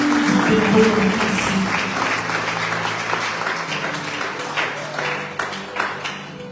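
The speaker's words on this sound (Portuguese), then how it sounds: "Aplaudem para a glória de Deus." A church congregation applauds during a worship service, steady broadband clapping that stays loud throughout and slowly tapers, with a voice and faint sustained tones beneath it.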